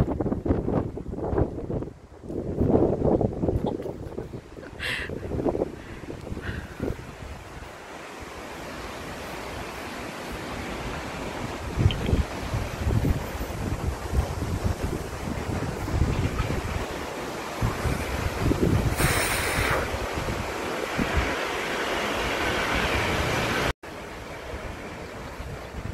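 Strong Typhoon Lingling winds roar steadily with crashing waves and heavy gusts buffeting the microphone, a loud continuous rush outdoors with no talking.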